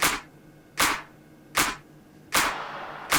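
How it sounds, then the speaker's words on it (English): A big layered clap sample in a pop song production hits four times at a steady pace, each a sharp, loud burst with a short tail, the last one more drawn out. "And then we have the big clap."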